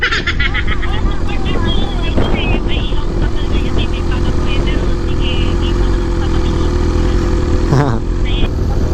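A big bike motorcycle rumbles steadily while riding, engine drone and wind noise filling the background as people talk over it.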